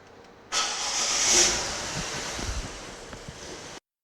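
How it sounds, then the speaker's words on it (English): A warmed-up car's engine starts during a gasoline emissions test, bursting into a loud hissing roar that settles into a steady, even run for about three seconds before cutting off abruptly. "We're going to start the car for now."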